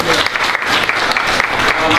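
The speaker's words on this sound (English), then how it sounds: "Let's give Mr. Conrad Bacon a round of applause" A room full of people claps for a guest at a school library renovation event, dense continuous applause, loud and close, with scattered crowd noise.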